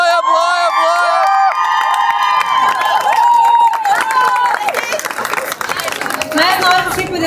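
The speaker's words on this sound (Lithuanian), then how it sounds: "Garsiau ploja." An audience at a Lithuanian class reunion event claps and cheers loudly, the dense applause building over several seconds beneath music and bright voices shouting from the crowd.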